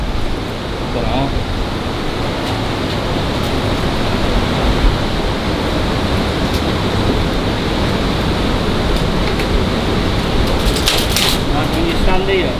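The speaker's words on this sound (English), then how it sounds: "It sounds like there's a big stream of water behind the wall." A broad, steady rush of flowing water fills an underground space beneath Manchester, a constant hissing roar like a stream heard through a wall, with no voices.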